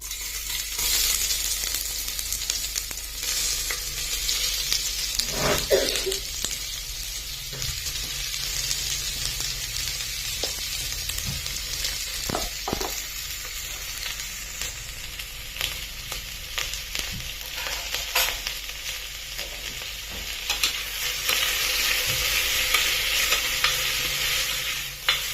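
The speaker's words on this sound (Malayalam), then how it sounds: "അപ്പോൾ ഇതിലേക്ക് നമുക്ക് സവോള ചേർക്കാം കേട്ടോ" Sliced onions sauté in coconut oil in a pan for Kerala chicken curry, a continuous bright hiss of frying with scattered clinks and scrapes from stirring.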